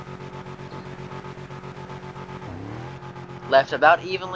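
A Chevelle launches in a FiveM drag race, its engine note dropping then surging as it pulls away, with loud bursts near the end under steady talk from a commentator.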